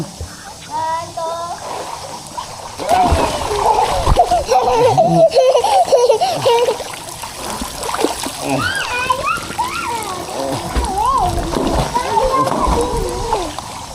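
Children jump into water one after another, setting off repeated loud splashes and sloshing, with excited kids' voices and adult chatter running underneath throughout.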